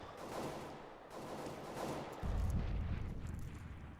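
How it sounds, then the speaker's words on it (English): Rapid AK rifle burst fired through a wall during a Counter-Strike esports match, a loud dense rattle of shots that grows heavier midway and continues without pause under the surrounding game noise. "that AK is going to take down Pimp through the wall"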